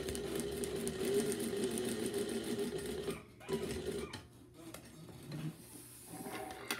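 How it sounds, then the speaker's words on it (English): A sewing machine understitches a pocket-bag seam allowance on a garment, its needle whirring steadily close by before stopping and restarting in short bursts. "I'm taking the seam allowance and pushing it now towards my pocket bag, doing an understitch."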